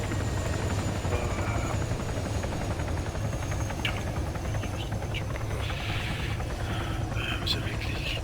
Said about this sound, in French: Vous avez les hélicos, les gars.